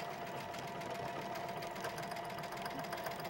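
A sewing machine runs steadily and continuously, stitching decorative thread painting on a tree design with a second thread color, a dense, even mechanical whir at moderate level with no talk.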